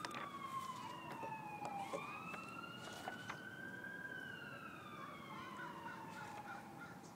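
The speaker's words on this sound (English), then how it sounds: "let's redo this one when we don't have this siren" A faint, distant siren wails, its pitch sliding slowly down and up over a steady background hum, with no one speaking.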